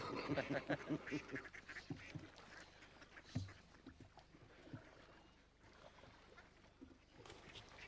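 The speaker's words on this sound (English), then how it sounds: "Ducks. Oh, yeah. Whole squadron of them." Ducks on water quack and call in a busy cluster around a garden pond or lake, some close and loud, others farther off, with brief human voices mixed in among the birds.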